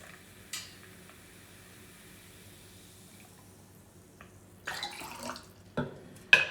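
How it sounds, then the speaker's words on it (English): Tonic water is poured into a cocktail glass already holding gentian liqueur and pineapple juice. After a quiet stretch, a few short, close splashing, fizzing pours come in quick bursts toward the end. "So I'm gonna add 2 ounces of tonic water."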